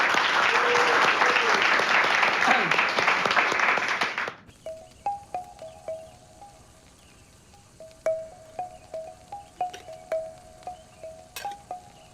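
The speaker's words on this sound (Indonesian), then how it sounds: "Tepuk tangan buat Babin kita" Dense applause from an assembled crowd at a police academy event honoring a village police officer fills the first four seconds, then stops abruptly, leaving quiet scattered taps and faint chirps.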